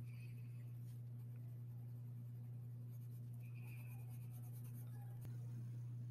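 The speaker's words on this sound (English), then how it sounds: "changing the pressure, like how hard you're pushing on your pencil" Pencil shading on paper for a monochromatic flower drawing makes a faint, steady scratching beneath a constant low electrical hum.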